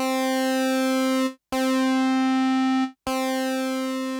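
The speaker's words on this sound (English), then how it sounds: "As you can hear, it started to sound a bit like a fuzz guitar." Roland Jupiter-8 synthesizer with envelope-driven pulse width modulation, a loud raspy buzzing tone like a fuzz guitar, three long sustained notes separated by brief gaps.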